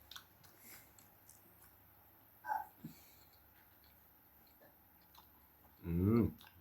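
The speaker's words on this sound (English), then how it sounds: "First time eating carrot and pumpkin porridge." Someone eats carrot and pumpkin porridge up close, with faint wet chewing and a couple of short louder mouth sounds over a quiet room.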